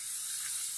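Egg poured into hot oil sizzles with a steady, even hiss, close and moderately quiet, with no voices over it.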